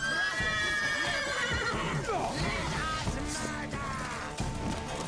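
A horse whinnies loudly while its hooves clip-clop, from The Witcher 3 during a bandit fight on Death March difficulty, mixed with game music and sparse combat noise.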